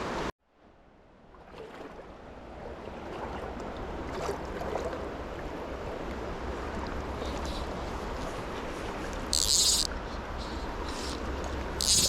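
A stream in Pennsylvania's North Woods flowing steadily, a dense continuous rushing and babbling that rises after a brief quiet start and stays fairly close and even, with a few brief high chirps over it.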